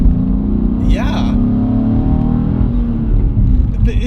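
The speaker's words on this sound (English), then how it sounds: "The car's exhaust is so different right now." A BMW G87 M2 in M2 mode rumbles with a deep, loud exhaust drone under a brief rev, while people talk over it close by.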